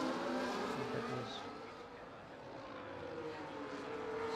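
Racing car engines drone steadily in a sim racing league race in Spain, several cars at mid distance with rising and falling pitch and no other sounds.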